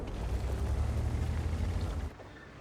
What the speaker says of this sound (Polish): No to szybki strzał